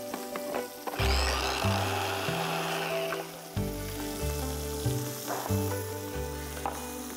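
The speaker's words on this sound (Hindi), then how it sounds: "ये देखिए ये पिसना शुरू हो गया इसके अंदर मैं डाल रहा हूं रोस्टेड पीनट्स" A mixer grinder blends spinach pesto with garlic and roasted peanuts. Its motor gives a loud, steady whir that shifts pitch in steps as the load changes, with no talking.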